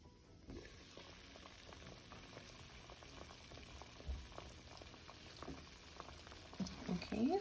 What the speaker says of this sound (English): And cover this up and allow it to boil.